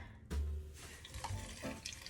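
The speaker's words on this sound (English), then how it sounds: "let's open this water up. And I'm going to pour it in here." Water poured from a freshly opened bottle into a container, a steady splashing pour starting abruptly and continuing close by with small gurgles and drips, no talking.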